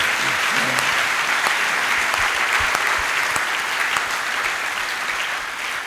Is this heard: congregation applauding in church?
yes